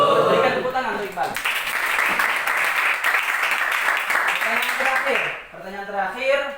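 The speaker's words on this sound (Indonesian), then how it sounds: "Berikan tepuk tangan untuk Iqbal." Classroom applause for a student named Iqbal during an Islamic ethics lesson: a burst of clapping from a group of children, with voices talking and calling out over it at the start and end.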